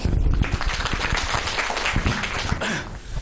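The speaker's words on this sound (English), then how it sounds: "So please clap for Vishal." An audience at a goal-setting talk claps for the presenter Vishal, loud, close applause with distinct individual claps that thins slightly near the end.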